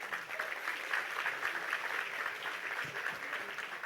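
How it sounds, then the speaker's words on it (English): An audience at the ASEAN Corporate Governance Awards ceremony applauds the chairs, a dense, steady wash of clapping that holds evenly from start to finish. "Let's give another round of applause for both chairs"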